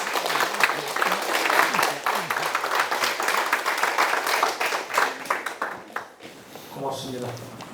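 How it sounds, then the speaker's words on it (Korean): An audience claps for the EU ambassador at a university dialogue event, a warm, full round of applause that swells and then thins out, with a voice speaking over its tail end. "그럼 여러분 우리 유럽연합 대사님 박수로 맞아주시겠어요?"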